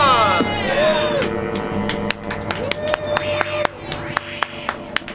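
A small studio group claps for a performer at a birthday show, with sharp, scattered claps ringing out irregularly over tonal voices or music, close and fairly loud.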